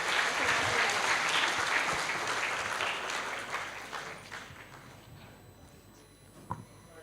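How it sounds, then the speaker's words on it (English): Audience applause closing a public lecture at a knowledge exchange programme, dense steady clapping from a crowd that gradually thins and fades, with a few last scattered claps near the end. "Please give up more applause for Mr. Tendi."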